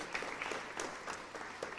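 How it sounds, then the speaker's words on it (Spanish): Audience at a church conference giving brief applause of thanks, scattered quiet clapping from a crowd at moderate distance, short and fairly faint. "podemos dar un aplauso de acciones de gracias a Dios por esta hermosa conferencia"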